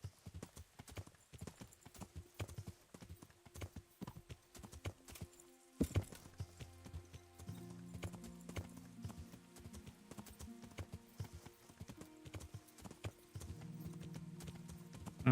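Horse hooves clip-clop in a steady walking rhythm in the medieval game Kingdom Come Deliverance, close and crisp, with a brief whinny and a soft musical drone joining partway through.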